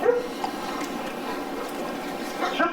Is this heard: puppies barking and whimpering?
yes